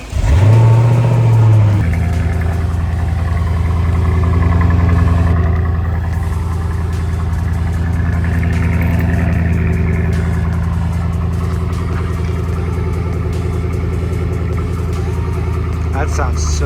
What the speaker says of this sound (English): It's got that nice little burble to it. Sounds gorgeous. Nice quad tip exhaust.